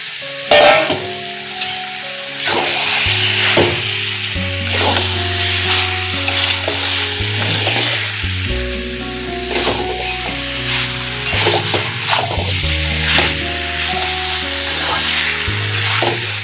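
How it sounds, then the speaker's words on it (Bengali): Jackfruit pieces frying in hot oil with spices for a Bengali curry, sizzling loudly and steadily while a utensil stirs and scrapes the pan in repeated strokes, close up with no talking. "এখন আমি 2 মিনিটের মতন মশলার সাথে আর কাঁঠালের সাথে কষাই নেব।"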